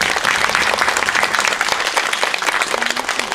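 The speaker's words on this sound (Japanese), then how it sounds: "大きな拍手お願いします" An audience applauds a vocalist at a live music, dance and fashion show, with dense, steady clapping that holds loud and even throughout and no talk over it.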